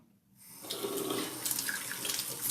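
Lukewarm water runs steadily from a tap into a sink, a continuous close splashing stream that starts after a brief quiet moment.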